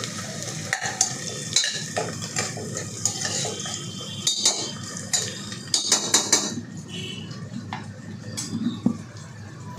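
Onions frying in a pressure cooker for chicken biryani, a continuous sizzle under repeated scraping and clinking of a metal spoon against the pot, close and busy, with no talking.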